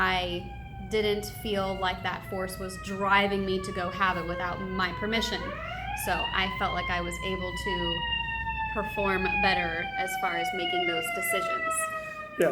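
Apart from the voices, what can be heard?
sirens of emergency vehicles passing by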